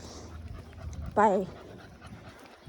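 A dog gives a brief whine or bark during outdoor training near other dogs, rising out of low background noise while a person talks.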